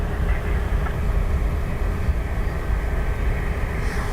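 An aircraft on the runway at Dublin Airport, a steady low engine rumble and roar that holds throughout, heard from a distance without a clear rise or fade.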